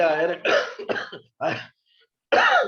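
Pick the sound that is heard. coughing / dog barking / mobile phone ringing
coughing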